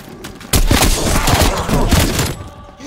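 Call of Duty Cold War Zombies gameplay delivers a loud, close burst of shotgun blasts that roll into a sustained barrage of heavy gunfire and thuds lasting over two seconds.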